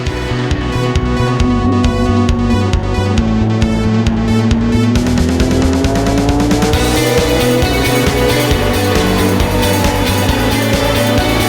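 Race cars at the Zandvoort 12-hour endurance race roar loudly and continuously, engines rising and falling through gear changes as several cars pass close by.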